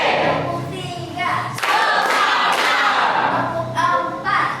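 A group claps in unison during a led clapping routine, several sharp multi-hand claps landing in a loose rhythm over a background of voices chanting and talking.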